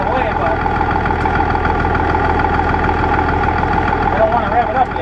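An International Harvester 1586 tractor engine idling as it warms up, a steady, loud low diesel rumble close by that runs unchanged throughout, with someone talking over it.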